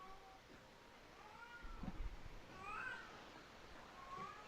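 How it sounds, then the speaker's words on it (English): A cat meows a few times at moderate distance, soft drawn-out calls rising and falling over low background rumble and handling noise. "Wherever that cat is."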